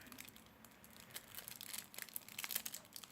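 Tightly sealed Lightseekers trading card deck packaging being pulled and torn open by hand, a quiet run of crinkling and tearing bursts that grows busier and louder toward the end, with no talk over it.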